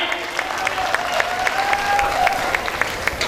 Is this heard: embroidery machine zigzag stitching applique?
no